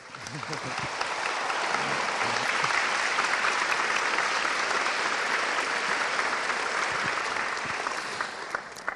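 Steady, dense applause from a seminar audience at a church event on biblical customs in Switzerland, swelling quickly and holding loud for several seconds before tapering off at the end.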